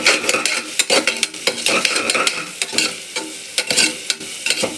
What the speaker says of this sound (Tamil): பாருங்கள், இஞ்சி பூடு இதையும் வதக்கலாம் நல்லா.